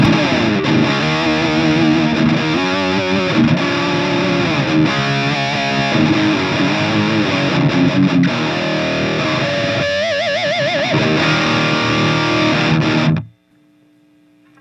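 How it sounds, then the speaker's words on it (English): Overdriven electric guitar through a Majik Box Rocket Fuel overdrive pedal plays loud, dense chords and riffs continuously for about thirteen seconds, then cuts off abruptly into near silence. "Let's hear what the overdrive sounds like."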